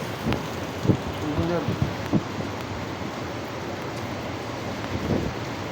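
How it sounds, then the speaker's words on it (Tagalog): Steady heavy rain hisses with gusty, whistling wind during a signal number 3 storm in Imus, Cavite, a few thumps and muffled voices briefly surfacing over the downpour. "Kusog hangin ug ulan nagdagkuan."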